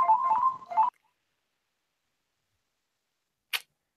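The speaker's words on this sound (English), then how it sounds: "I think he's just had to take a phone call." A phone rings with a brief electronic warble lasting under a second, followed by silence and then a single sharp click near the end.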